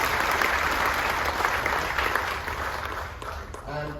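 An audience aboard the Carnival Magic cruise ship applauds in a steady, loud, dense round of clapping that tapers slightly at the end, with a voice coming in faintly as it fades.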